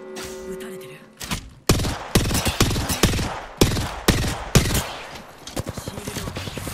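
Rapid automatic gunfire strikes a player's shield in Apex Legends, a loud sustained fusillade of bursts and sharp impact cracks with brief gaps, close and dense throughout.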